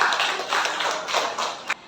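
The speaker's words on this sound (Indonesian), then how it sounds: "Beri tepuk tangan meriah untuk Mega" A classroom group gives a student a short burst of applause, brisk and fairly close, fading out within about two seconds.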